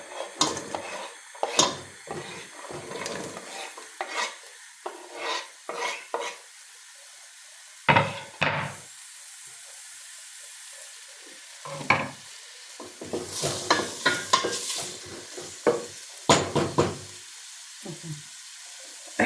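Chopped onion and carrot frying in oil in a pan for a vegetable soup, a low sizzle under repeated close scraping and clinking of a utensil against the pot in irregular bursts.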